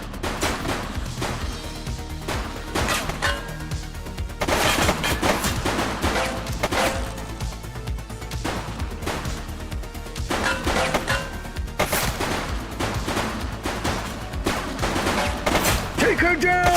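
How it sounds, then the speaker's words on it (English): Gunfire rattles through a police video game, with repeated bursts of rapid shots and impacts in several clusters over a continuous game soundtrack. "She's shooting!"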